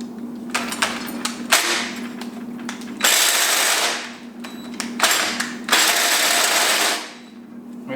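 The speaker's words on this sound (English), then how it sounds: "Maybe we're letting smoke out of the drill." A cordless drill whirs in repeated bursts of a few seconds each while working on a turbo LS Mustang, its high buzzing motor cutting in and out, close and fairly loud, with a steady low hum beneath.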